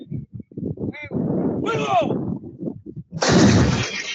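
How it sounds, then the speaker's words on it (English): Heavy artillery firing during military war drills, with deep booming blasts and a loud roaring burst near the end, mixed with voices and other field noise. "Oh, wow. Artillery."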